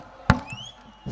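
At an outdoor political campaign rally, a coconut is cracked open with one sharp, loud crack, followed by a quieter knock about a second later against faint background noise.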